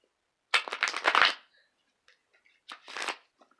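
A quick riffle-and-shuffle of tarot cards, two short bursts of papery crunching and flapping, close and fairly quiet with a pause between them.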